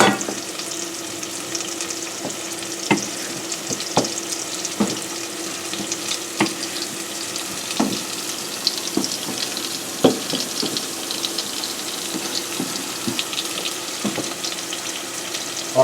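Risotto fries and is stirred in a pan on a steady low sizzle, broken by repeated scraping knocks of the spoon at irregular intervals.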